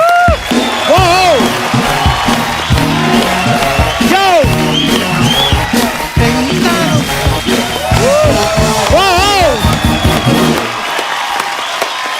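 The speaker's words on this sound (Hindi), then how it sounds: "प्लीज वेलकम आपकी जोरदार तालियों के बीच मिस्टर सलमान खान एंड कटरीना कैफ।" Studio audience on a comedy talk show applauds and cheers with whoops as Salman Khan and Katrina Kaif are welcomed, loud and continuous throughout, under music and voices.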